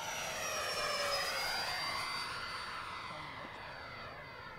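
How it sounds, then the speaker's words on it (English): A scratch-built F4D Skyray radio-controlled model jet makes a high-speed full-throttle pass. Its steady turbine whine sweeps down in pitch as it flies by and then fades into the distance. "I'm gonna do a high-speed full throttle pass."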